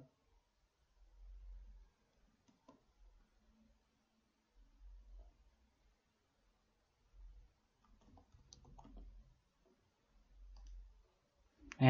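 Soft computer mouse clicks come while someone works through a captcha on a login page: a handful of quiet, separate taps spaced a second or more apart over a low background hum.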